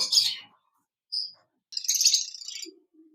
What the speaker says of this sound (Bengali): এখানে দেখতে পাচ্ছেন একজোড়া পাইনাপেল কোনো পাখি রয়েছে ডাবল রেড ফ্যাক্টর